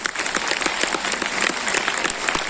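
A large hall audience at a Modicare business event in Nazrul Mancha, Kolkata, breaks into sustained applause, thick and even, with many overlapping hand claps and a few crisper ones popping out near the front.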